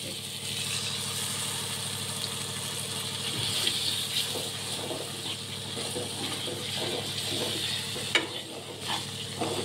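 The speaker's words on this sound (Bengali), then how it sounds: "এখন আমি এই যে ম্যারিনেট করার যে দই আর পেঁয়াজের রসটা ছিল সেইটা এখন আমি দিয়ে দেবো" Yogurt and onion juice marinade going into spice paste frying in a pan for Bengali doi chingri (prawns in yogurt), with steady sizzling and stirring scrapes throughout at close range, alone without talk.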